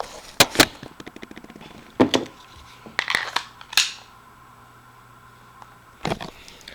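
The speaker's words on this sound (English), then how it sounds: "So we'll go ahead and load it into the pistol, cycle some rounds through it, rack the slide, and see how it performs." Sig P226 pistol being loaded with Mec Gar magazines, rounds cycled and the slide racked: a handful of sharp metallic clacks and snaps in irregular bursts, close and loud against a quiet room.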